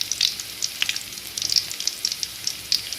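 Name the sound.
crushed garlic frying with spluttering mustard seeds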